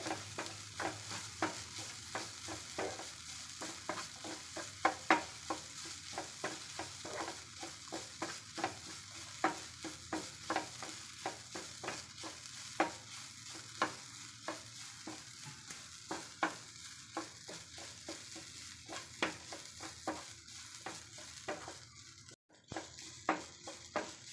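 Grated coconut and pumpkin leaves sizzle quietly in a hot pan while being stirred, giving a steady soft crackle with regular scraping strokes of the spoon, all fairly faint and without voices.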